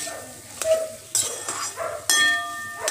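A spiced mashed potato and onion mixture fries in a pan for a potato sandwich filling, with a soft sizzle under repeated scraping and clanking strokes of a spatula against the pan.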